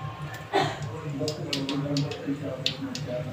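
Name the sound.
mustard seeds crackling in hot oil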